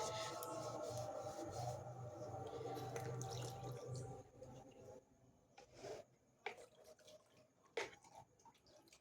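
A small cleaned utensil is rinsed under tap water after scrubbing with a cleaning product: running water and splashing at first, then broken drips, rubbing and handling sounds, fairly faint.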